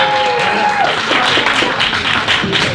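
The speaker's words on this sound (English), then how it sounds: "One more time for yourselves. Clap, clap, clap." Loud audience clapping and cheering at a live comedy game show, a dense wash of hand claps with voices mixed in throughout.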